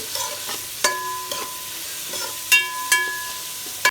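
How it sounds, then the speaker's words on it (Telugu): Onions frying in a pan until golden brown give off a soft, constant sizzle, broken by a few sharp metallic scrapes and taps from a stirring utensil, heard up close with no voices. "ఈ ఉల్లిపాయలు అనేది గోల్డెన్ బ్రౌన్ వచ్చేదాకా వేయించుకోవాలండి"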